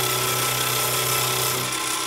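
A metal lathe turning square stock round in a 3-jaw chuck, a steady loud motor whine with cutting noise, continuous and close.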